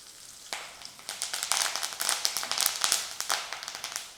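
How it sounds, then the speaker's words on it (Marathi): Finely chopped onion sizzles loudly in hot tempering oil with curry leaves, crackling pops beginning sharply and bursting irregularly throughout. "बारीक चिरलेला कांदा घालूयात इथेच मी फोडणीतच थोडी कोथिंबीर घालते"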